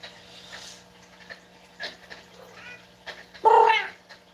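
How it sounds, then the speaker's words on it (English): Indoors, a cat gives a few scattered meows and caterwauls, with one louder, longer cry near the end, over a steady low hum; no talk. "Sounds like one of the cats are coming this way."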